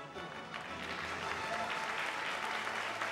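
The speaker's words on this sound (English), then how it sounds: "please feel free to keep the claps going" Applause from an audience at a business women's awards ceremony, dense sustained clapping filling the hall at a moderate distance, steady throughout with faint crowd murmur underneath.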